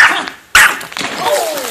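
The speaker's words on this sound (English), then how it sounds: "Gidget, Molly, no barking" A Yorkie barks in short sharp yips near a swimming spot, a loud burst standing out amid splashing and background noise while people talk nearby.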